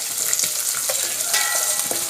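Urad dal, garlic and curry leaves fry in hot oil for rasam, a bright continuous sizzle with quick stirring scrapes, close and unbroken.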